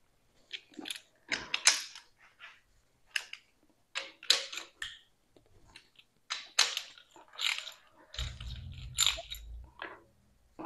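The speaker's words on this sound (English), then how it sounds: "I think my ratchet has seen better days." A worn hand ratchet tightening intake manifold bolts on a small-block Ford engine, close up: irregular bursts of dry clicking and creaking pawl strokes, stopping and starting, ending with a low rumble underneath.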